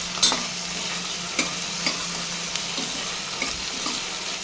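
Tomatoes with rock salt sauté in a pan under a steady hiss of frying, with several scraping clicks as a spatula stirs them at intervals.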